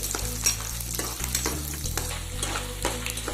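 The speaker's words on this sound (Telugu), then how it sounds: "పోపు దినుసులు, పల్లీలు యాడ్ చేసుకుందామండి. వీటిని బాగా వేయించుకోవాలండి." Tempering spices and peanuts fry in hot oil for poha upma, a steady close sizzle with a low hum underneath and occasional scrapes of stirring, with no voice heard.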